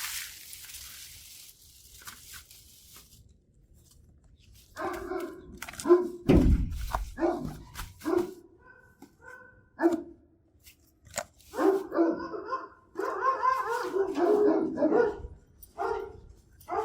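A large, strong dog barks hard from behind a glass door, with bursts of loud, close, deep barking and thuds against the glass, separated by brief pauses.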